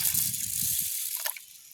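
Water poured from a vessel onto grains set to soak, a short splashing gush that stops after about a second and is followed by a few faint drips, close and quiet.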